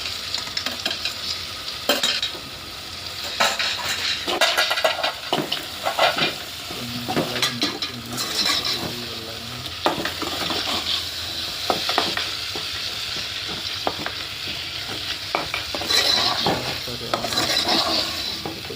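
Spoon stirring eggplant oro, the smoky mashed brinjal of baingan bharta, through garlic in a pan, with steady scraping and clatter over a constant close sizzle and no talk.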